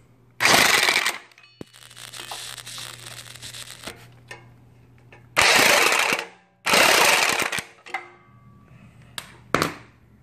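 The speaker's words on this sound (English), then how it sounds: "I'm gonna torque them down real quick" Power tool torquing down bolts during a Grasshopper mower main seal change, with several loud, short rattling bursts separated by quiet pauses and light clinks of handling.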